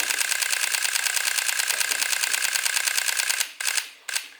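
A Sony A7 III fires its shutter in a maximum-speed continuous burst, a fast, even mechanical chatter of rapid clicks that runs steadily and then stutters into short broken bursts and stops near the end.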